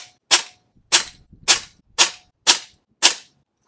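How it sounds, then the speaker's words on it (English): Six sharp shots from a Diana Bandit PCP air pistol, evenly spaced about half a second apart, each a loud close crack with a quick decay, no talking. "Second mag with the Diana Bandit."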